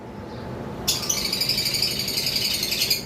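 Green opaline parrots in a bird market give a burst of bright, repeated chattering squawks that starts about a second in and carries on steadily over a low market background hum.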